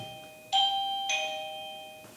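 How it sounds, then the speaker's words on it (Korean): An electronic call bell, pressed by a patient to summon help and used like a doorbell, gives two bright chiming ding-dong tones in quick succession, close and clear, then a steady ringing decay with no voices. "요거 같은 경우에는 이게 이제 초인종 같은 건데요"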